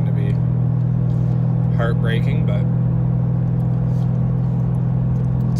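Dodge Challenger cruising on a 9-degree day, a loud, steady low engine hum and road rumble from inside the cabin, with someone talking briefly over it.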